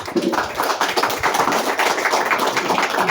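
Audience at a sector event applauds the team, a dense, steady patter of hand claps lasting a few seconds with no voices on top.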